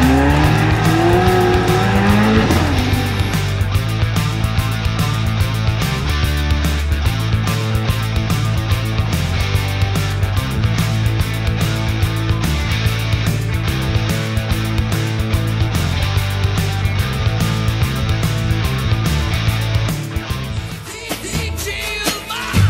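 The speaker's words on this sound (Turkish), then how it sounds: "O telefonu bağladığımız arabayı süreceğiz." A Ferrari driven hard with a Galaxy Note 10+ phone tied behind it: loud racing engine revving and shifting through gears, with tire squeal and skidding, continuous and close, easing off near the end.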